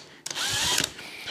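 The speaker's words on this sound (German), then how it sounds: "Und bohre mal ganz langsam rein." Cordless drill fitted with a Parkside adjustable hole saw spinning up and cutting for about a second, a close, loud whirring burst with a brief stutter near the end.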